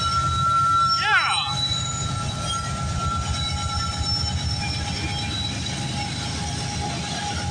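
A CPKC freight train led by a Union Pacific locomotive rolls past at night on the Galt Subdivision near Guelph Line, a loud continuous rumble with rhythmic wheel beats and a brief sweeping squeal early on.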